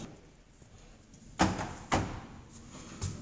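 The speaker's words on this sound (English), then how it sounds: "Doors opening. Doors opening." Otis 2000 lift doors at a shopping centre car park open with a few sharp thuds and rumbling slides, close and fairly loud, with no talk.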